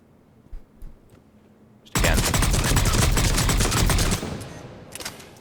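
The Valkyrie assault rifle fires in Mass Effect 3, with a loud, dense burst of rapid shots lasting about two seconds and a few fainter scattered shots before and after.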